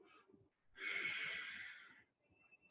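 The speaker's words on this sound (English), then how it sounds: "Couple easy breaths, making that ocean sound with the exhale." A single long, breathy ujjayi exhale, the ocean-sound breath of a seated yoga practice, swells and then fades over about a second, close and fairly quiet, with softer breaths on either side of it.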